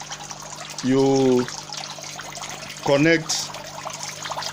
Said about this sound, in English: you will see the way the water is flowing